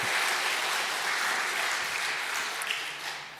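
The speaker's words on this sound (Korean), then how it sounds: "박수까지는 예상이 없었는데" A church congregation applauds steadily for a few seconds at a Sunday service as a pastor steps up to preach, a dense wash of clapping that holds level and then tapers off near the end.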